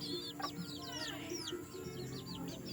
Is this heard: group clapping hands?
no